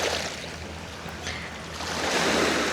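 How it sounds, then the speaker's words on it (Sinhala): Lake water on Lago di Lecco near Milan, rolling and splashing in the wake of a passing boat: a steady close wash of small waves, swelling slightly louder toward the end, with no voices. "මේ විදිහට මේ රැලි ගහන්නේ බෝට් එකක් ගියා"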